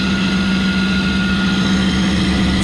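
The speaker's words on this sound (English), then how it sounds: "I can't hear myself think over this combustion blower." A York rooftop unit's combustion blower roars loudly and steadily, a dense constant drone with a strong low hum and no break, with no talking over it.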